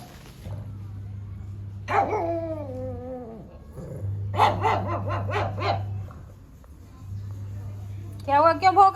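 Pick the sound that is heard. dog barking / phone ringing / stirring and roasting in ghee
dog barking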